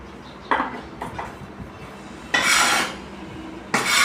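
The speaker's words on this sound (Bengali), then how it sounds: "চলুন এবার মাটিটাকে মিশিয়ে নেওয়া যাক" Dry garden soil being mixed with an amendment for potted flower plants on a rooftop garden: a few short scraping, rustling bursts, with two longer gritty rubs near the end and no talk.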